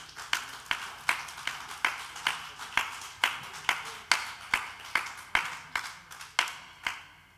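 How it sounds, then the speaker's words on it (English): Sparse, slow clapping in a lecture auditorium after a talk, roughly a dozen distinct claps in a steady rhythm, fairly close and moderately loud, with no voices over it. "I'm sure you know we should do a better applause for him."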